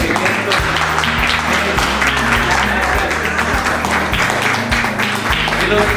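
An audience at a restaurant gives a round of applause: loud, dense clapping from many hands, sustained for several seconds, with a low thumping rhythm and some voices mixed in underneath.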